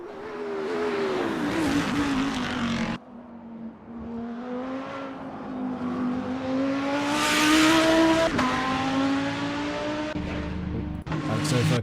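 GT race cars in a sim racing game crossing the line at Spa-Francorchamps: close, loud engine drones rising and falling in pitch as cars pass, with abrupt changes between passes.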